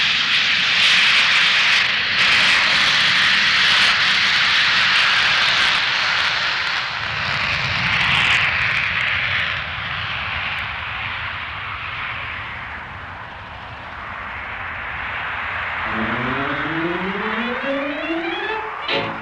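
A plane's engine drones loudly and steadily while it flies low along valleys at around 400 to 500 miles an hour in Scotland, with the pitch shifting and rising tones sweeping up near the end.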